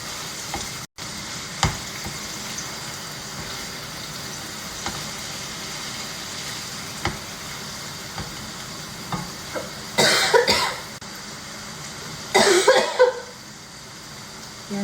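Minced meat for lasagna sizzles steadily in a frying pan while being stirred, with two louder bursts of scraping and stirring near the end. A few scattered knocks and a brief cough stand out against the constant frying hiss.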